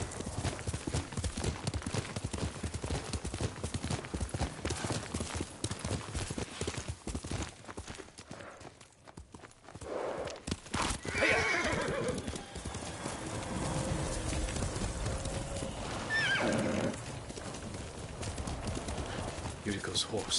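Horse hooves clip-clop steadily over ground while a horse whinnies and voices murmur nearby.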